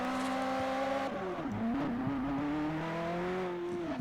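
A car engine in the Forza Horizon racing game hums steadily at mid revs, with a brief shift in tone partway through and a slight rise and fall in pitch, the sound close and continuous throughout.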